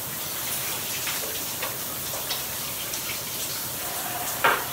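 A shower runs over feet being washed, a steady hiss of spray close by with scattered splashes and drips and one sharper splash near the end.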